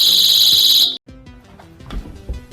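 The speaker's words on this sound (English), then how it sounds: "you can also activate the alarm with a double click of the flashlight button" A personal safety alarm built into a flashlight shrieks with a loud, piercing electronic tone for under a second, then cuts off abruptly, leaving quieter handling clicks and thumps.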